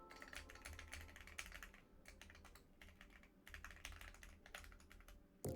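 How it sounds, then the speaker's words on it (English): Rapid clusters of computer keyboard keystrokes during a programming session, close and crisp, with short pauses between bursts and a louder clack at the very end. "Again, that keyboard."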